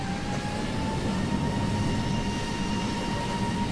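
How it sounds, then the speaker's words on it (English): Airplane noise in the background during a live flight-simulator stream, a steady broadband roar with faint tonal hums holding evenly for the whole stretch, no voices over it. "Noisy plane in the background."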